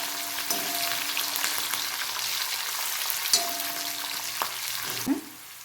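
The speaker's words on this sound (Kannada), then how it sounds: "ಚೆನ್ನಾಗಿ ಫ್ರೈ ಮಾಡ್ಕೊಳ್ಳಿ ಆ ಎಣ್ಣೆಲಿ ಅದರ ಖಾರದ ಅಂಶ ಎಲ್ಲ ಬಿಡಬೇಕು" Four chopped green chillies fry in oil for a traditional bitter gourd palya, giving a continuous loud sizzle with occasional sharp clinks of stirring, ending abruptly.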